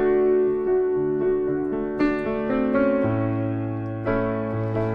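A piano plays the short guitar melody from the intro of a song, rocking between notes over a held bass note, clear and close with no talk.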